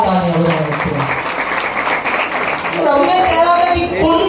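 An audience in a hall fills the space with steady, sustained applause for two young scholars at a poetry gathering, with harmonic voice-like tones and cheering mixed through the crowd noise.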